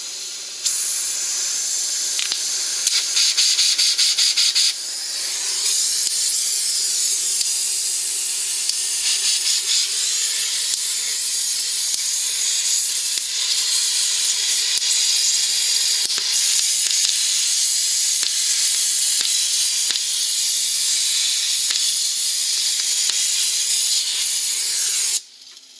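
A torch flame heating a bolt under a Buick Regal GS during a sway bar install, a loud, close, continuous roaring hiss that holds steady for over twenty seconds before cutting off.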